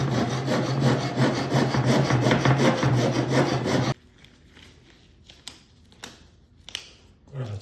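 A rasp and sandpaper work the wooden coaming riser rings of a kayak in fast, rhythmic rough strokes for about four seconds, then fall to a few sparse scrapes and knocks.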